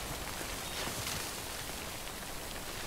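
Rain falling in the video game Death Stranding, a dense, even hiss of drops pattering on surfaces, faint and continuous for a few seconds with no voices.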